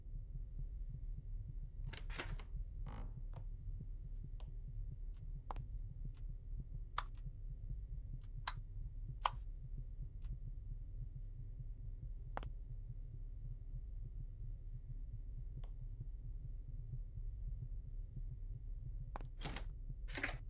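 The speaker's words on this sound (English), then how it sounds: "I can just hear my heart pounding." A steady low throbbing heartbeat pulses throughout, faint and continuous, with scattered sharp clicks and ticks over it and no talking.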